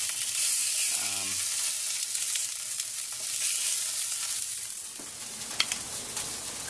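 Loud, continuous sizzling of meat frying in its juices on a grill mat, close up, with occasional small pops and a brief low voice near the start.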